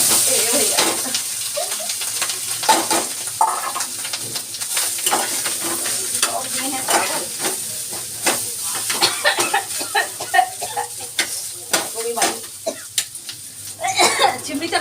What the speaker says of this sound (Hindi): नमक मिर्च के मैं चावल फ्राई कर देती हूँ फटाफट।